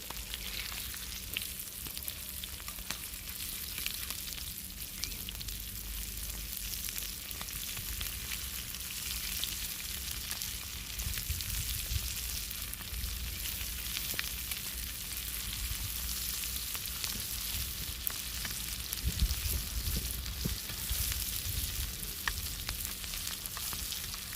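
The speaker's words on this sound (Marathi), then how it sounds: "माशाचे बघा एकदम जबरदस्त फ्राय झाले" Scaly fish pieces fry in oil outdoors, a soft continuous sizzle and crackle at low level with occasional bubbling pops throughout, no talking.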